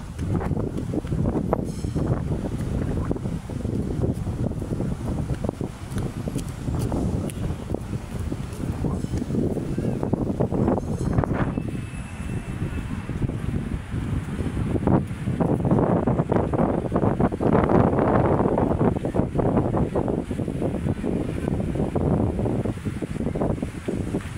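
Gusty wind buffeting the microphone over the wash of sea waves at Dolomite Beach on Manila Bay, rising and falling in strength, with no voices.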